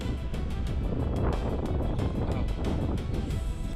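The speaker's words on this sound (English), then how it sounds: "Oh, it's getting windy up here." Wind gusting at night on a high hilltop in South America, a steady broadband rush with buffeting against the microphone and no clear talk over it.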